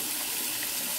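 Hot water runs steadily from a tap into a sink while shaving soap is prepared for a wet shave, a brief close, even rush of flowing water with no voices.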